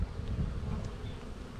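Honey bees buzzing around an opened hive, a faint, brief hum under light wind noise.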